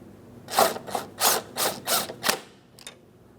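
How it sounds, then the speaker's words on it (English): Bolts on an upper door hinge of a 2008-2016 Chrysler Town & Country are tightened with a ratchet: six loud, close, evenly spaced clicking strokes, then a faint final tick. "then we'll fully tighten each of these bolts"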